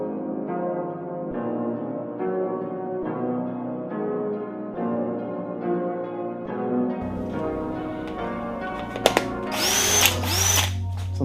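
A cordless battery-powered drill runs in repeated bursts, its motor whine rising and falling near the microphone, then a sharper, higher grinding and clattering toward the end as it bites into material.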